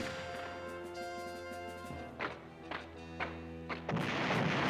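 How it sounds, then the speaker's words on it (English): Defensive artillery fire in the Panzer General video game: a run of sharp, heavy booms and crashes at roughly even intervals, cutting over a sustained tonal music bed and ending in a denser, noisy burst. "Defensive artillery, but not too bad."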